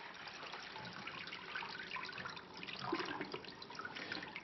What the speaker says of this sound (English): We fill a conic jar with water.